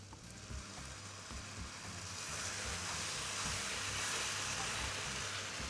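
Beer hits a hot pan and a hissing sizzle builds and holds, steady and fairly quiet.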